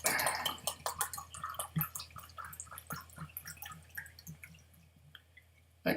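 Water poured from an empty whiskey bottle into a glass of water, giving a close run of irregular drips, splashes and gurgles that trail off toward the end.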